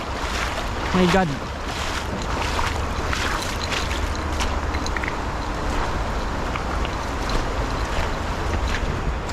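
A strong river current rushes and churns steadily throughout, loud broadband noise close by, with a brief man's exclamation early on.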